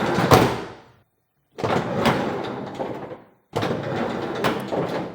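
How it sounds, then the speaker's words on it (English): A Dodge Caravan minivan's sliding door rumbles along its track three times as it slides shut, each roll ending with a thud, separated by brief silences. "We can actually open it and have it slide back on its own now"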